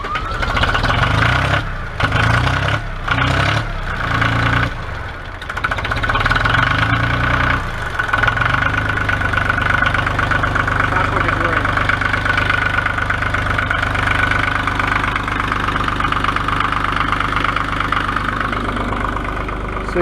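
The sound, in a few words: old Ford tractor engine idling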